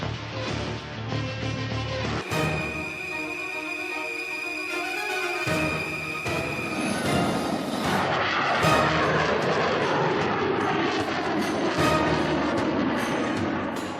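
A Dassault Rafale fighter jet roars loudly and steadily, a broad rushing rumble that swells and holds throughout, with tonal, music-like layers at the start and occasional booming thuds.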